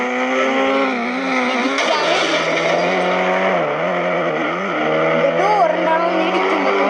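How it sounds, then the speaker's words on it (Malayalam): A slow-moving car in a video game holds a continuous droning engine tone whose pitch wavers and dips gently, sounding loud and close throughout. "ഇതെന്ത് പതുക്കെയാണ് പക്ഷെ പോണത് ഈ വണ്ടി"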